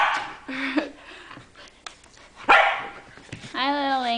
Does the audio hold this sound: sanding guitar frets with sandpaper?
no